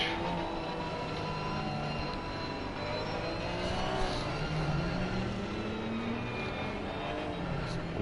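Onboard engine sound from the #96 Porsche GT3 race car at Monza, a steady sustained drone with shifting pitch that holds evenly for the whole stretch, fairly faint and unbroken, with no voices.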